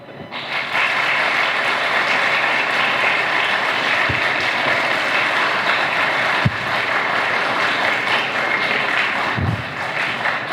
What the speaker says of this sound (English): we give our loudest clap ever